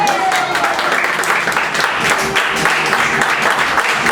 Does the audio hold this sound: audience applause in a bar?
yes